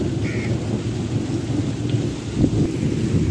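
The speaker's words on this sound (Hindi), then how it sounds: "मुसलसल बारिश रही है और बहुत तेज़ वाली बारिश रही है और अभी तक जो है वो जारी है।" Heavy, steady rain pours down in a thunderstorm, a dense loud wash of water with a low rumble of thunder swelling briefly near the end.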